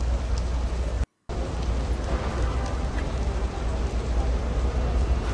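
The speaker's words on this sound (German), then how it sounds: "Und es regnet." Steady rain falls in the dark city streets of the video game Fallen Shadows, a dense, even hiss with low rumble running throughout, briefly cut to silence for a moment near the start.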